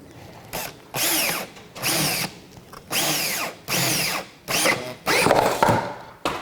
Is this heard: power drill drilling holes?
yes